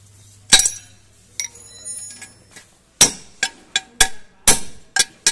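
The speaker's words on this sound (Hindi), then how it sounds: "यहाँ से पीछे पीटो वाला कप ठोक लेना है।" Hammer blows knock a bearing cup into a small power tiller gearbox, sharp metallic clinks and ringing strikes, a few spaced hits and then a quicker run of close, loud taps.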